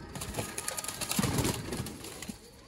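A Sialkoti breeder pigeon held in hand gives a few low, soft coos close up, with faint rustling and background noise around.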